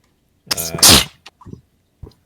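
A single loud, sharp sneeze bursts out during a tabletop role-playing game session, followed by a few faint rustles and small noises.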